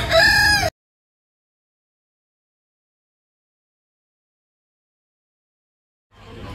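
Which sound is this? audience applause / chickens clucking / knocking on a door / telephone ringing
chickens clucking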